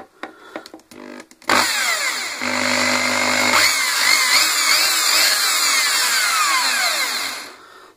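After a few clicks and bumps, an electric power tool motor whirs up loudly and runs steadily for several seconds before winding down.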